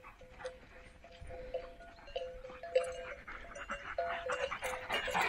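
Kangal shepherd dogs pant rapidly and close by after a chase, with quick rhythmic breaths and faint whimpers growing louder toward the end.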